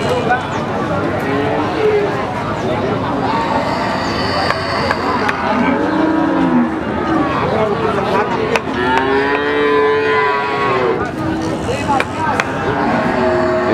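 Cattle at the Pon Pati livestock market in Pati moo repeatedly, several drawn-out calls rising over constant market crowd chatter and background noise.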